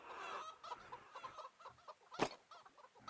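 Chickens cluck in soft, scattered bursts in a medieval village in the video game Medieval Dynasty, faint and somewhat distant, with one brief sharper sound near the end.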